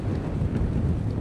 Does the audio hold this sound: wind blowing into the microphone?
yes